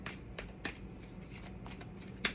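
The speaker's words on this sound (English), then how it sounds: "I'm a big fan of shuffling these cards." Tarot cards being shuffled by hand make several soft riffling bursts and sharper snaps spaced irregularly, close and fairly quiet, with no voice heard.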